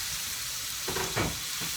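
A roast pan sizzles and hisses as it is deglazed, steady frying crackle throughout with a couple of short louder bursts of bubbling and scraping near the end.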